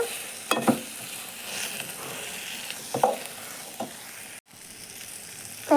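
Food frying in a pan on a low flame, stirred steadily, with a soft continuous sizzle and a few brief scraping strokes of a spoon against the pan, close and moderately quiet.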